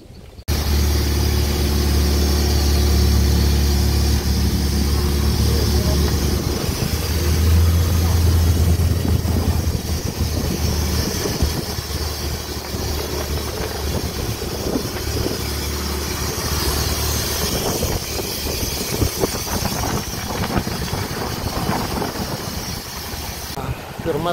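A motorboat engine idles and then runs on a small boat heading to an island near Railay, Krabi, with a low steady drone and throbbing that shifts partway through, while people talk nearby.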